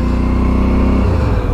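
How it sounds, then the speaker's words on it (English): Motorcycle being ridden at about 40 km/h and lightly braked to bed in new Stopp brakes, with a loud steady engine drone that drops in pitch partway through as the bike slows. "To bed the new brakes in, what I'm going to do is 40k an hour, then a light brake, do that 10 times"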